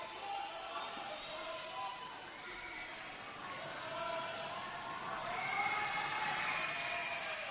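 A crowd in a basketball arena at the NWBL finals, Darwin Salties v Wollongong Rollerhawks, reacts during a free throw with a steady hubbub and whistling that swells toward the end.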